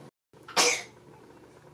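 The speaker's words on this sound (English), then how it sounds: "My little girl sneezed" A small girl sneezes once, a short and fairly faint burst heard nearby after a moment of silence, followed by low room noise, with no talking.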